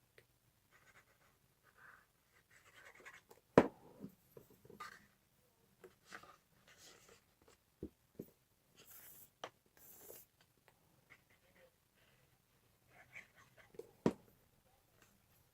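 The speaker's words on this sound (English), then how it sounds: "then fold the front ones over." Paper is folded by hand into a small gift box for a hand cream tube, soft rustles and creasing scrapes with a few sharp taps, quiet and close, spaced in short bursts with pauses between.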